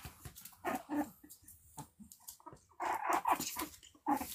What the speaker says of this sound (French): mes chiens peuvent pleurer à côté de moi aussi